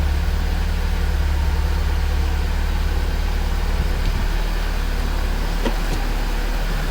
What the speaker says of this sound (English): these flat tappet engines do tend to start up a little rough anyways